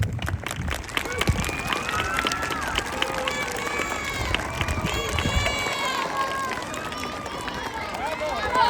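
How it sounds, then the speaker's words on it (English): A school assembly at an Air Force base campus fills with children's cheering, shouting and scattered clapping for the staff. The excited voices and crowd noise are more prominent than the applause. "I'd like to do a round of applause, please."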